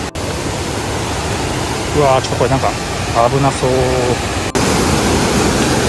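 A small waterfall and clear river stream in a gorge, heard as a steady, broad rushing of water filling the whole scene, with a person speaking briefly over it.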